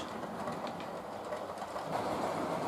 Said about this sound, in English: There are several of my Hornby conversions in this train, this very heavy train